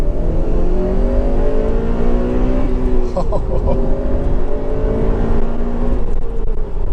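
A Honda Civic Type R 2.0 i-VTEC engine revs repeatedly, rising and falling in pitch, loud and steady throughout with a brief mechanical flutter midway.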